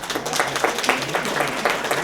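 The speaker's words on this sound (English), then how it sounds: "let's give a big round of applause" Audience applause at a library event honoring local guests and the Placentia Library Friends Foundation, a steady wash of many hands clapping close by with scattered louder claps throughout.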